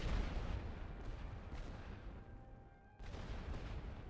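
Artillery barrage in The Great War: Western Front video game: heavy, rumbling shell fire, loud at the start, easing off, then a fresh burst of blasts about three seconds in.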